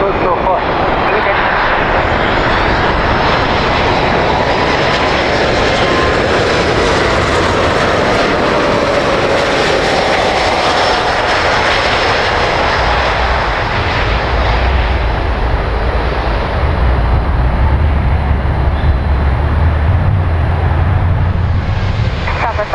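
Heavy jet aircraft engines roar continuously at Miami International Airport, a loud sustained rumble that swells and fades as planes land and take off, with air traffic control radio voices talking throughout.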